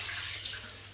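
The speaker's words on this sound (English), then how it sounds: "just going to empty the old sink and get a little splash of cold" Cold tap water runs steadily into a bathroom sink, a close, continuous hiss and splash with no break, heard on its own.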